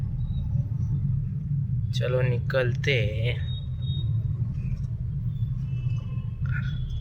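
A steady low rumble of road traffic with cars passing on a busy road near a bridge, heard from inside or beside a vehicle, continuous throughout, with a short burst of nearby speech.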